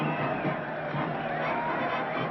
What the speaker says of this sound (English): And look at that mob waving and cheering.